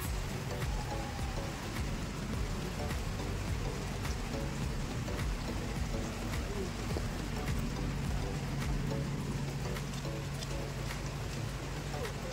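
Heavy rain falls steadily in Zurich, Switzerland, a dense continuous patter of drops on surfaces with a faint low rumble underneath and no voices.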